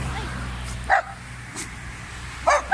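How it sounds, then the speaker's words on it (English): A dog barks beside a busy Romanian highway, two short loud bursts about a second and a half apart, close by over steady road and engine rumble, with a faint yip in between. "Gotta watch dog, everybody."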